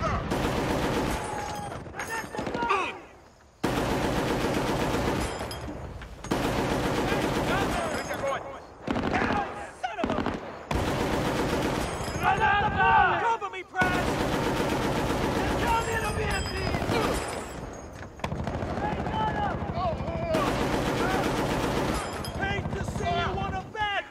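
Bursts of mounted machine-gun fire in Battlefield: Bad Company, loud and close, rattling in long runs with brief gaps while voices talk over the shooting.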